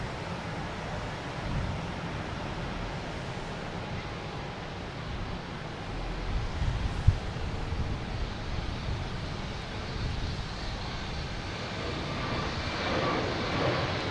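A Delta Airbus A321neo bound for San Diego at Boston Logan Airport, heard as a steady, fairly distant broadband jet roar that holds throughout with no voices over it.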